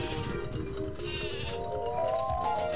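Sheep bleating from the Sleepy Sheep item in the Paper Mario video game, a wavering nasal bleat lasting a couple of seconds over steady game music.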